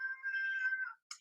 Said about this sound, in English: That's my cat. My cat thinks that I'm talking to her.